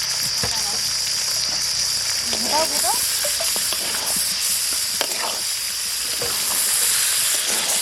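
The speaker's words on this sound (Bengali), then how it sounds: "মাংস কষানো হয়ে গেছে, এখন আমি আলুটা দিয়ে জল দিয়ে দেবো" Fried meat sizzles loudly in a pot at an outdoor picnic as potatoes and water go in, a continuous hiss with scattered stirring clinks and faint voices in the background.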